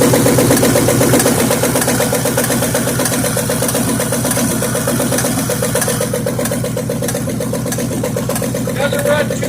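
A 1957 GMC truck engine, left parked in a field for 40 years, idles steadily and loudly at close range with an uneven, lumpy rhythm that holds throughout.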